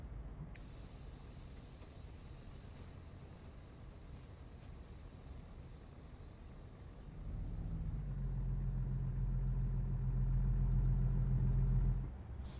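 A heavy truck with a loaded trailer in American Truck Simulator sits at a quiet low hum, then its engine rises into a deep, steady rumble as it pulls away, cutting off abruptly near the end.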